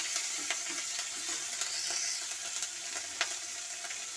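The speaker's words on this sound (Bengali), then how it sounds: "এরপর আমি আদা বাটাটা দিয়ে দিচ্ছি। আদা বাটাটা দিয়ে আমি ভালো করে এটা নেড়ে নেব।" Ginger paste fries in a pan for a fish roe fritter recipe, giving a steady hissing sizzle. Several scraping stirs of a spatula knock through it, with no talking.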